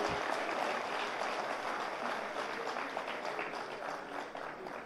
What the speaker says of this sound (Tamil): அது சரின்னு நினச்சா ஒரு நல்ல கைத்தட்டு கொடுங்க அவருக்கு